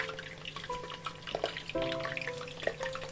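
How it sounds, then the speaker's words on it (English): Cabbage batter balls fry in hot oil in a pan, giving a steady close crackling sizzle with soft pops and a few brief clinks of a utensil, with no voices. "Do not overcrowd the pan when frying the balls."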